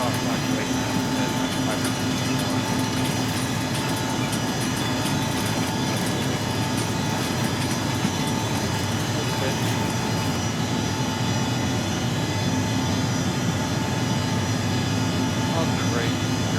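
Sustained roar of ERJ regional jet engines held at full takeoff thrust in the X-Plane flight simulator, a steady dense broadband drone with a constant tonal hum, loud and unbroken throughout.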